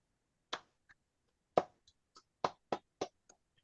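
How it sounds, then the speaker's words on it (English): A small audience at a tutoring event clapping in a sparse, uneven way: a handful of distinct, separate claps with short gaps between them, close and dry against an otherwise quiet room. "I do like a little bit of applause early on"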